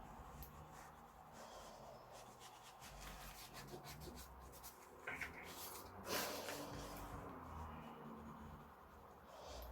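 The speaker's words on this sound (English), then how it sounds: "I'm not pushing too hard on that crayon, I'm just lightly skimming it over the surface and then smudging it." A crayon lightly skimmed and smudged across a gel print: soft, quiet, continuous rubbing and scratching close by, with a few brief sharper scuffs.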